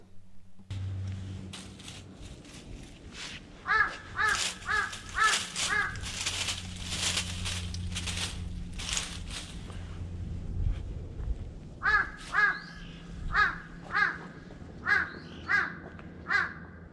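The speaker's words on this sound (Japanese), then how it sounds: "カラス君ちょっとうるさいよ、" Crows caw loudly in repeated bursts of several harsh calls, with a break in between, over faint outdoor background noise during tree pruning.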